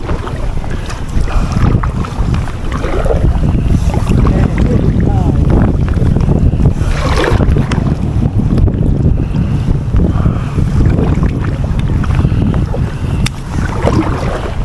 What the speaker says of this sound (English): the wind's getting up, isn't it?